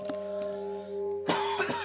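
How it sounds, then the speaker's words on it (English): A person coughs and clears their throat, a short burst of coughs near the end, close and fairly loud over steady electronic music and background hum from a video game. "Sorry for my coughing."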